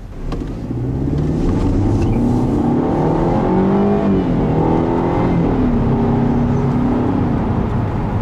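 A 2012 Mercedes-Benz C250 with its 1.8-liter four-cylinder engine accelerates steadily, engine note climbing through gears in a continuous loud drone heard from inside the car.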